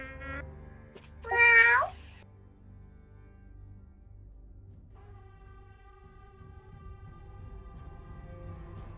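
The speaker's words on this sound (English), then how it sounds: "I kept hearing meows and then more meows" A cat gives one clear, rising-and-falling meow near the start, loud and close. Afterward only a low steady hum and faint background noise remain.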